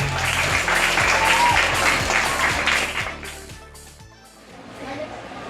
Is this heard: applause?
yes